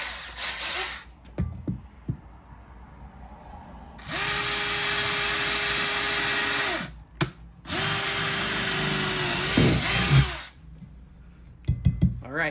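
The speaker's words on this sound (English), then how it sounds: "We're going to drill a pilot hole." Power drill boring a pilot hole into a garage wall, with two sustained high whirring runs of about three seconds each, separated by brief pauses and ended with short clicks, close and loud.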